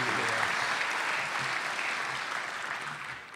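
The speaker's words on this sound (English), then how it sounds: "let's bring him on with applause" A large audience at a university presidential inauguration applauds to welcome Senator Roger Wicker to the stage, with thick, sustained clapping from many hands filling the room evenly and without break.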